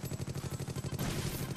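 Rapid automatic gunfire from a tower-defense style online game, a fast, even burst of close, loud shots that runs for over a second and then blurs into a denser roar.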